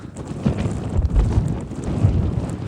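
Strong wind on a hilltop walk buffets the microphone with a continuous low roar and rumble that swells and gusts, close and loud throughout.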